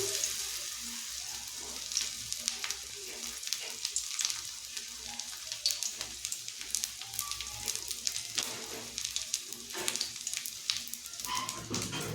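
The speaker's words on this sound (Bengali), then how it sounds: "এই যে এখন ছোট প্রকারে একটু বড়া টাইপের করে এই তেলের মধ্যে দিচ্ছি" Small onion and gram flour fritters sizzle and fry steadily in hot oil, a continuous close crackling hiss with scattered pops throughout.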